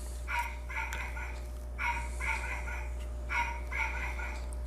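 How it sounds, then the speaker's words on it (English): A dog that barks whenever a light comes on, heard faintly at a distance in repeated short pairs of barks over a steady low hum. "Don't mind that dog when the light comes on. He barks."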